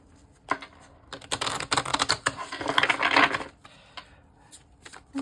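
Rapid papery riffling and soft slaps of tarot cards being shuffled, in bursts that build and then taper, close and fairly quiet.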